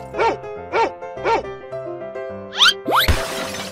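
A cartoon dog gives three quick, bouncy barks in a row, followed by comic boing and whoosh effects over light background music.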